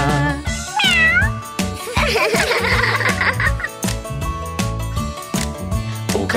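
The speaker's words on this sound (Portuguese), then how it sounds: "O gato do trator faz miau, miau, miau" Cartoon cat meows in a children's farm song about farm animals on a tractor, set against a busy, loud musical backing with singing voices throughout.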